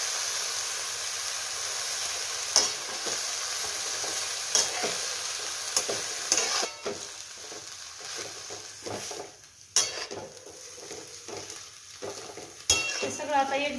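Fenugreek leaves and tomato fry in a pan with a constant close sizzle, broken by repeated scraping and clattering stirs of a spoon against the pan.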